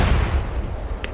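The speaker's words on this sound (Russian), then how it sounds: "Граната! Я бросаю!" A grenade explodes in the video game SOCOM, a short, loud, booming blast with a rumbling low-end tail that fills the whole moment.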